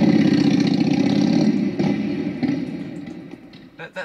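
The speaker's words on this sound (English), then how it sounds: "There's a motorbike. A Harley Davidson." A Harley-Davidson motorbike engine runs in a steady loud rumble that slowly fades, ending with a few short sputters.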